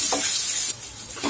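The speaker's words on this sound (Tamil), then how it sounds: "எல்லாத்தையும் நல்லா வதக்கிக்கலாங்க" Chopped onion, cumin and curry leaves sauté over high flame in a pan for a Tamil nookal poriyal, giving a steady close sizzling hiss with a brief dip partway through.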